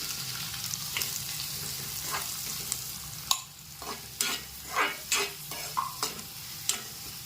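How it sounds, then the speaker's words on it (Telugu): Onion pieces frying in oil in a kadai, a steady soft sizzle under a series of sharp scraping and stirring knocks that come faster toward the end. "బాండీ పెట్టుకుని ఆయిల్ పోసుకున్నాను. ఇప్పుడు దీంట్లో ఉల్లిపాయ ముక్కలు వేస్తున్నానండి."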